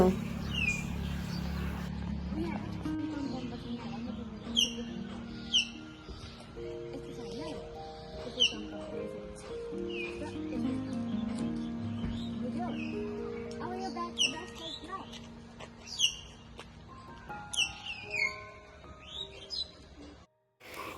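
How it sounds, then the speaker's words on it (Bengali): Many small birds chirp and tweet in roadside trees along a narrow country lane near Siliguri, with repeated short calls scattered through a steady low hum of outdoor ambience. "এই পাশে গাছের মধ্যে এত পাখিগুলো কথা বলছিল"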